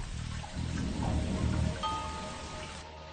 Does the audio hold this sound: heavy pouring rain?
yes